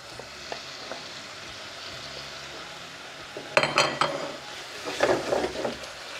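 Marinated chicken for a creamy chicken pasta sizzles in a pan, a steady fry that turns busier midway as a utensil stirs and clinks against the pan in short bursts, with no voices.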